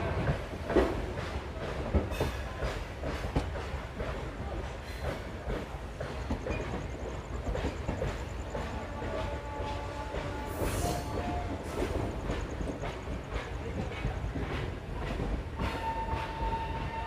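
The 12175 Chambal Express passenger train rolls along the rails near Raebareli with a steady rumbling roar and a rhythmic clickety-clack of wheels, plus occasional faint squeals, heard from on board.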